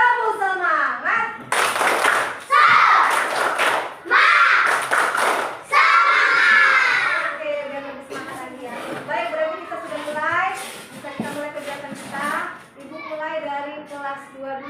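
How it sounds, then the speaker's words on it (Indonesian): Schoolchildren in a combined class perform the tepuk semangat clapping routine, bursts of loud group clapping alternating with chanted children's voices and a teacher talking, in a lively classroom. "Tepuk semangat."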